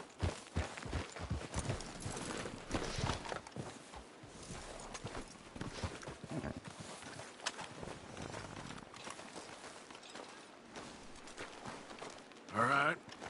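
Horses walk in Red Dead Redemption, a rhythmic clip-clop of hooves that comes and goes at close range, with voices talking over it and a brief louder burst near the end.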